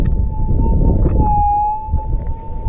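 A metal detector sings a steady, unbroken tone from ground noise while prospecting in the goldfields near Meekatharra, Western Australia, holding one pitch with a slight dip midway, loud and close over low rumbling handling and wind noise.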